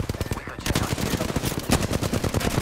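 Close, loud automatic weapon fire in Apex Legends, overlapping rapid bursts from a battle royale firefight that keep rattling without pause for a few seconds.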